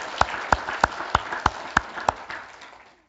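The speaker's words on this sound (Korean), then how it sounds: "박수 한번 크게 하죠." A church congregation claps at a Korean Sunday service: about seven slow, separate, loud claps in a steady rhythm over a light murmur, fading out at the end.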